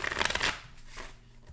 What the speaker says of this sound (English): So you can see I'm shuffling the fast action deck, cut it a bunch of times.